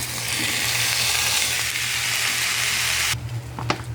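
Fried rice with cabbage, ginger and garlic sizzles loudly in a pan, a dense steady crackle that runs close and continuous before cutting off abruptly near the end, leaving faint stirring clicks.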